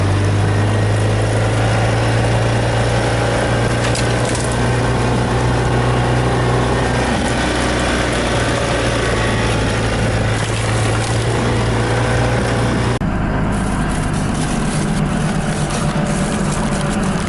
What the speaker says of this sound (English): There are people who like to hear this Cummins run, this old Cummins run, you know.